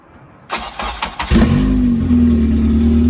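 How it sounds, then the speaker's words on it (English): A right-hand-drive Honda Integra Type R engine cranks briefly, catches, and settles into a steady, loud idle rumble close by. "we've got it to the point where it starts up really well, really easily"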